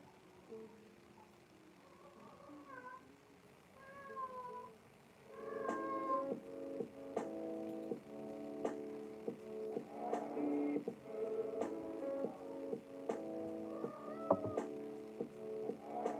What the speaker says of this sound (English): You're meowing away.